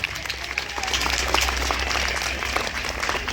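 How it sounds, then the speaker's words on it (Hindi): Audience applause at a school Grandparents Day event, a steady dense wash of clapping held throughout at moderate level with a faint voice briefly audible beneath. "जोरदार तालियां अपने लिए बजा दिए।"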